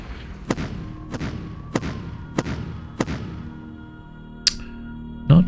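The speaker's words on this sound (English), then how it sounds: "Let's see if we can hit these guys with one artillery." Artillery fire in a WWII Ardennes Offensive war strategy game: five evenly spaced, sharp thumping shots about half a second apart, followed by a couple of brighter cracks and a final louder report.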